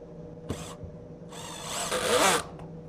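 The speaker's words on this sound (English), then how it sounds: "Just apply the glue to your joint and drive the self-tapping screw." A power drill drives a self-tapping screw into a glued Kreg pocket-hole wood joint: a short first whir, a pause, then a longer rising grinding burst that stops abruptly, heard up close.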